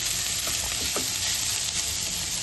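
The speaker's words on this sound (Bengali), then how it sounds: "পেঁয়াজটা আমি মিডিয়াম ব্রাউন পর্যন্ত ভেজে নেব" Onions frying in a pan until medium brown, a steady continuous sizzle with no talk, for a street-style egg chop.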